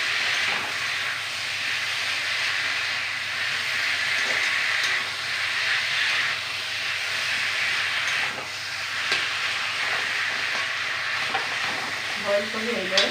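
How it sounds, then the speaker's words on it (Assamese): Boiled tomato, potato and sweet potato fry in a pan for paneer curry, a steady, moderately faint hiss and sizzle that runs throughout with occasional light clinks near the end. "বইল কৰি এইদৰে ভাজি দিলোঁ।"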